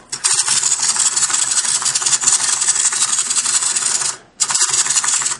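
A wind-up key on a plastic He-Man Happy Meal toy of Orko gives a steady ratcheting, rubbing buzz for about four seconds, breaks off briefly, then starts again, up close.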